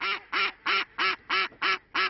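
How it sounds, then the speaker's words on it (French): Decoy ducks raised by hunters, quacking on a marsh to lure waterfowl: seven loud, evenly spaced nasal quacks in quick succession, close and clear with no other sound. "Grâce à leurs cris, ces canards élevés par les chasseurs servent d'appât pour le gibier d'eau."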